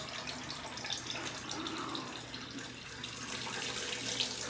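A bathroom water tap runs steadily as someone rinses off after shaving, giving a soft, even hiss of flowing water that is faint and close.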